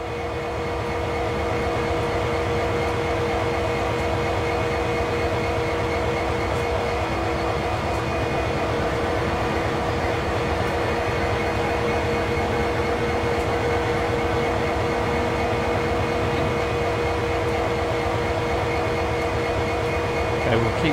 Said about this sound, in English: Using a rotation control, turn the table and locomotive to the indicated track.